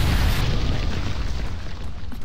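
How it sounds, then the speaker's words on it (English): An asteroid impact explosion hits as a loud, deep boom at the start, then a rumbling roar fades away over about two seconds. "a great asteroid hit the Earth and created a huge explosion"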